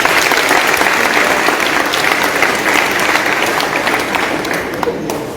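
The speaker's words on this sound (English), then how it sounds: "So let us show them your gratitude by giving them a big round of applause as well." A graduation audience breaks into loud, sustained applause, many hands clapping densely and evenly from start to finish with no voice on top.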